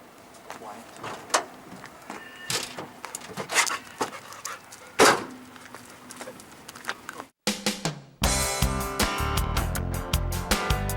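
A pet dog, about to be taken out for a walk at a show, pants rapidly and steadily up close, with scattered handling clatter and people talking over it; the scene shifts abruptly to louder, busier background noise near the end.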